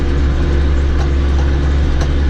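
A tractor engine, a Claas Variant 360 baler rig working with a 460 net wrap kit, runs steadily and loud with a constant low drone and no break across the whole stretch.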